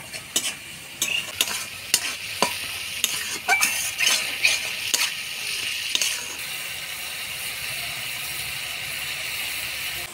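A spice masala of turmeric, salt, cumin, coriander and chilli powders with a little water frying in a pan, with a constant sizzle broken by sharp, repeated spatula scrapes and knocks that fade toward the end.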